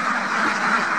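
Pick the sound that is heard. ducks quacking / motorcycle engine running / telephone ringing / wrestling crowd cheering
ducks quacking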